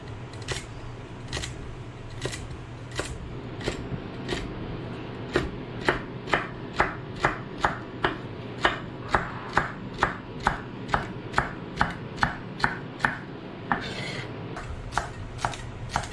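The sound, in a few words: roughly chopping celery, garlic and carrots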